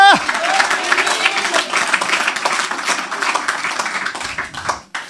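A church congregation breaks into loud, sustained applause and clapping at a preaching service, filling the room for several seconds before tapering off.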